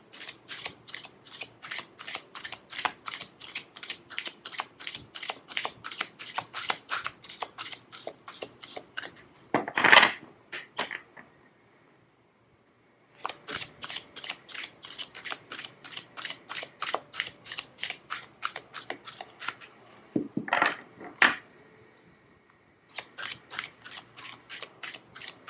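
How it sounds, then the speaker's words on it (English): Oracle cards being shuffled, long runs of rapid, even riffling flicks repeated again and again, each set broken by a louder shuffle and short pauses, close and crisp, no talking. "I'm going to pull a couple more cards"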